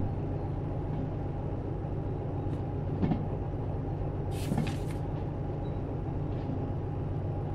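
A train wagon rolls along the track in Derail Valley, a steady low rumble with a couple of soft clanks and a brief hiss of air, with no talk over it.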